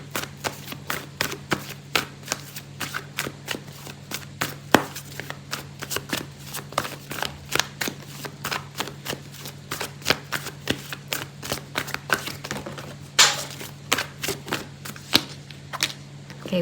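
A deck of oracle cards is shuffled in a steady run of rapid, close riffles and taps, with a soft card-pull rustle near the end and no talking.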